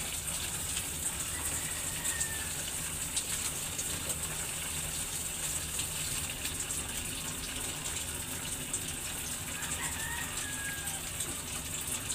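Water rushes and gushes steadily into a Samsung automatic washing machine drum, a constant loud hiss lasting throughout, the machine continuing to fill with water during the wash.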